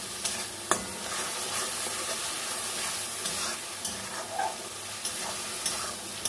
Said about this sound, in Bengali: দিয়ে আমি মশলাটাকে ভালো করে কষাবো।